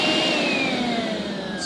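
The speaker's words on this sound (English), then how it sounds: "The next tool on the lineup is going to be this vacuum." A Makita cordless vacuum runs steadily with a high, airy whine and a slowly falling motor tone, close and continuous with no talk.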